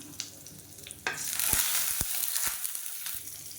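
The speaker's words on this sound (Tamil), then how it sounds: "கடுகு வெடிக்க ஆரம்பிக்குது." Mustard seeds spluttering in hot oil with cumin, curry leaves and a dried red chilli, sharp irregular pops and crackles over a steady close sizzle.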